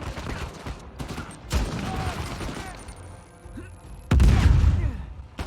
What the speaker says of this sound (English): Get some bombs going.